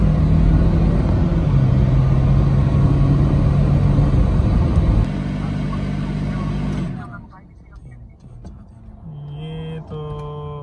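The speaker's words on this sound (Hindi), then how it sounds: "इसको रोड टेस्ट पे निकाल के चेक करते हैं कि कितनी देर के बाद दोबारा ऑन होती हैं।" A Honda Vezel on a road test gives a loud, steady engine and road rumble that drops off sharply partway through, leaving quieter idle and faint background sounds with a voice speaking over it.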